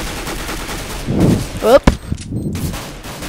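MP9 submachine gun fire in Counter-Strike: Global Offensive, a few brief sharp bursts around the middle over background game noise, with someone talking briefly.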